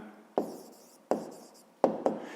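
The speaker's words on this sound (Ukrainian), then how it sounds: "Пишемо відповідь." A pen writes an answer by hand on paper in four short, crisp strokes, each a sharp scratch that quickly fades, the last two close together, quiet and close with no talk.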